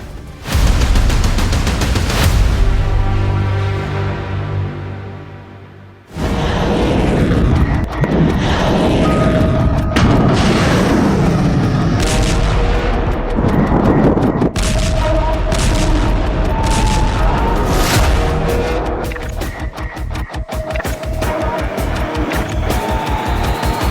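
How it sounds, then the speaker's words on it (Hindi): Missile strikes and explosions over Erbil, Iraq, erupt as loud, dense booms and blast-like bursts one after another, with a rumbling, sustained din between the impacts and no clear speech. "ईरान ने इराक के इरबिल में मिसाइलों की बौछार की, जिसमें ISIS को टारगेट किया गया।"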